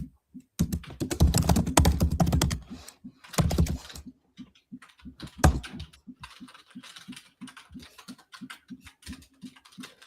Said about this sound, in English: You guys are going to listen to loads of typing now.